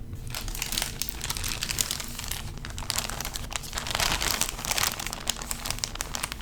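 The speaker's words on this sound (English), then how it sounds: "Plastic wrap is very loud with ASMR." Close, steady crinkling and crumpling of plastic wrap, continuous and fairly loud throughout with bursts of sharper crackle.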